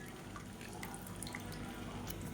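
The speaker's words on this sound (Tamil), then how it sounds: "இப்போ மிக்ஸியை அலசிட்டு தண்ணி சேர்த்துக்கலாம்." Water rinses a mixer jar and pours into a pan of cauliflower gravy, a soft, continuous splashing trickle with scattered drips, quiet and close.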